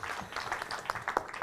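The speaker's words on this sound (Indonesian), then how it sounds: "Boleh tepuk tangan buat kita semuanya dong" Brief, quiet applause from guests at an MSIG Insurance agent gathering in a hotel, a light scattered patter of hands with a few louder claps near the end.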